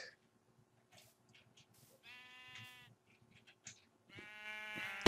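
Sheep in a Minecraft sheep farm bleat several times, clear drawn-out calls in bursts over a faint steady game background, with no one talking.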